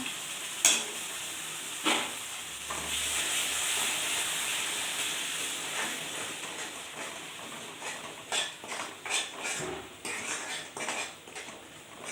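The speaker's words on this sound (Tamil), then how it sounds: "நல்லா இதை எடுத்து இப்போ இதில் போட்டு நல்லா வணக்கிக்கலாம்" A thick spice paste for butter masala sizzles and spits in a hot pan while a utensil scrapes and clinks against the metal now and then.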